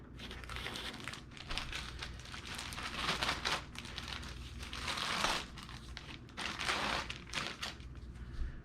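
Plastic wrapping being pulled off the filter of a Lifubide Y1000 large-room air purifier, a continuous close crinkling and rustling with brief louder crackles and no talking.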